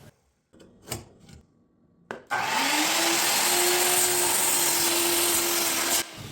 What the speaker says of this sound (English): Now let's start the test simple with a crosscut on a 2x4.